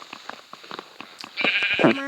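In the Minecraft video game, a sheep bleats loudly and wavers up close near the end, after a stretch of scattered clicks and taps, with faint voices in the background.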